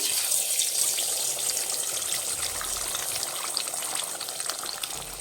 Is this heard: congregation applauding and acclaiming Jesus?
no